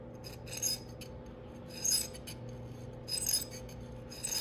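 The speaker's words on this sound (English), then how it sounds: "So what I like to do sometimes too is just file inward as well." A hand file rasps across the gap of a piston ring for a 5.3 LS engine in about four short, evenly spaced strokes, faint and close over a steady low hum.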